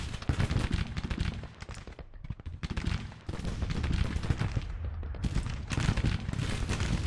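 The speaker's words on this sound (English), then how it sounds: "Fire at will, they are firing." Dense musket volleys crackle in a Civil War battle in Grand Tactician: The Civil War, with continuous overlapping shots rolling on for several seconds, a brief lull midway, then renewed heavy firing.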